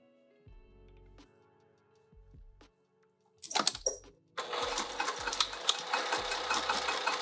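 A sewing machine stitching a fabric pouch: quiet handling and short mechanical starts first, then a burst of rattling, and finally a steady loud whirring run of rapid stitching that continues to the end.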